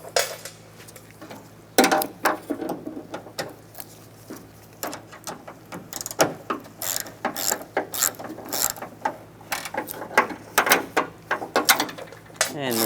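Ratchet with an 8mm socket turning out door handle bolts on a 2011-2025 Dodge Durango front door, a run of quick close clicking bursts with brief pauses between them, alone without talk.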